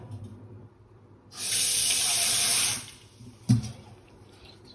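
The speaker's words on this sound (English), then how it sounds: "I'm just adding a little bit more water." Kitchen tap running for about a second and a half as water is added to a pot of gungo peas, a bright steady gush that stops abruptly, followed by a small knock.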